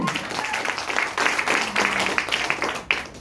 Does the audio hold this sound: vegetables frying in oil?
no